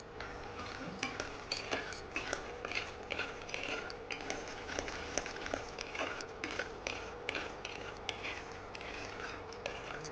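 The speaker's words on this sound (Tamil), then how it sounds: "இந்த நிலக்கடலை அதில் போட்டு கைவிடாமல் வறுக்கணும்" Peanuts are dry-roasted in a hot pan and stirred without pause, giving quiet, continuous rattling and scraping with frequent small clicks of nuts and utensil against metal.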